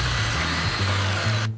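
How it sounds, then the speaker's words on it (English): A Black & Decker Firestorm power drill whirs in one continuous, steady burst lasting about a second and a half, then cuts off sharply. A low musical hum runs underneath it. "Now you can go from drilling holes to driving screws in a snap."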